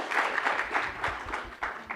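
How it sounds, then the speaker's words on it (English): An audience at an investment conference panel gives a brief round of applause, close and moderately loud, with a few distinct claps standing out from the group. "A round of applause for the panelists here for providing insights"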